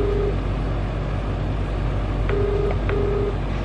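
A phone line ringing tone sounds twice in short electronic bursts over a steady low hum of background noise.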